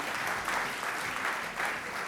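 Steady applause from a crowd, dense clapping filling the room throughout, fairly distant and even in loudness.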